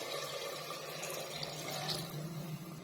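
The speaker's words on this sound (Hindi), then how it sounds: "अभी मैं इसके अंदर पानी डालूंगा।" Water gushes into a cooking pot of moong and chana daal, a continuous close splashing pour of roughly three glasses' worth, with no voices over it.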